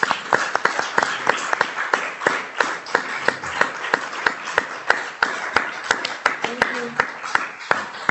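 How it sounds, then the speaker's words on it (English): Audience applause for round table panelists at a choir-focused discussion, steady scattered clapping with distinct sharp individual claps throughout, voices speaking over it near the end. "a warm round of applause for our panelists"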